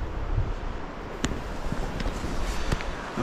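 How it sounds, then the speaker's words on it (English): Steady wind buffets the microphone outdoors on a cloudy day in Sweden, a continuous low rumble with a few faint knocks, no voices. "it's quite windy too"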